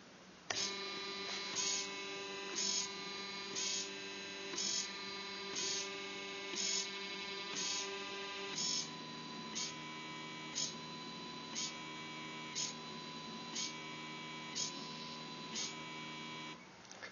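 Stepper, servo and DC motors driven together by an IOIO motor-control board whine with steady tonal hums and rhythmic stepping pulses, the pattern shifting about halfway through; close and moderately loud, no talking.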